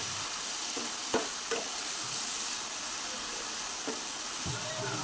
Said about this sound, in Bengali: আলু যেভাবে ভাজা হয় ঠিক সেইভাবেই ভেজে নেব আলুগুলো